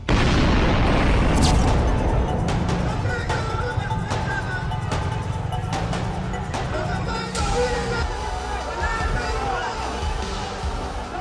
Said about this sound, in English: A suicide bomber blew himself up in the middle of the crowd.